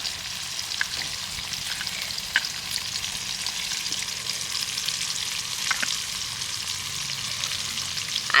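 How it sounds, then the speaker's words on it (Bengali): Steady oil sizzling fills the clip, a constant frying crackle as tomato and peanuts fry, with a few sharp pops and light stirring scrapes. "তো টমেটোর সাথে এগুলো ভাজা হতে থাক"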